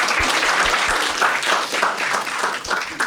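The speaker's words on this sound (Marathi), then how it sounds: "एकदा टाळ्या वाजवा यांच्यासाठी." A stand-up comedy crowd in a Marathi club applauds, a loud, full wash of many hands clapping together that holds steady throughout, with a little low thumping underneath and no talk.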